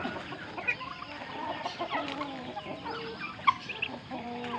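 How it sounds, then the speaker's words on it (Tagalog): Chicks about a month old and newly hatched ducklings peep and chirp steadily on a backyard farm, with soft clucks and overlapping high calls close by and no talking. "Narinig naman yung mga bibi na mga bagong pisa."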